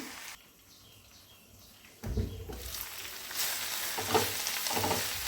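A moringa leaf and tomato curry fries in a pan, a quiet stretch giving way to a louder, crackling sizzle with stirring scrapes that grows busier toward the end, with no voices.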